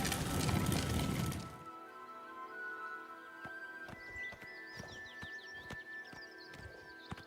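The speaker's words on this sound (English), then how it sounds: "Take care of my horse, will you?" Horse hooves clip-clopping on the ground in Oblivion Remastered, a fantasy video game. After a loud opening rush, a steady run of sharp, evenly spaced hoof knocks plays against a soft ambient hum.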